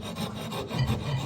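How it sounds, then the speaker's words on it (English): A rough file rasps across wood at a slight upward angle, a steady close scraping of repeated strokes with nobody talking. "when working with a rough file is that I'm filing at a slight angle upward"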